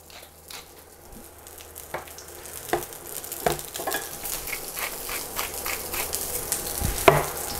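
Fish fries in browning butter in a pan, a steady close sizzle that slowly grows louder, broken by occasional scrapes and clinks of a utensil, with no voices.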